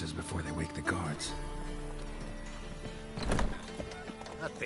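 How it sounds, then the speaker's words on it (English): Horses in a stable in The Witcher 3 snort and whinny while hooves clop and shuffle on the ground, with a louder burst of movement near the end, all under a low game music bed. "Gotta calm all the horses before they wake the guards."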